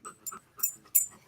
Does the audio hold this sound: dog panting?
yes